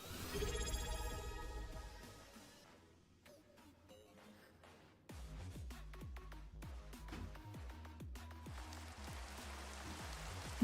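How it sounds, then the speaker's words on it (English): Rain falls in a video game as a dense, even patter of drops that begins softly, then thickens into a steadier downpour, with no voices over it. "It rained."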